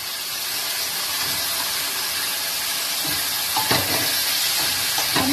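Soya chunks dropped into a pan of spices frying in oil, giving a steady close sizzle and hiss with a few louder crackling bursts as they land, no talking.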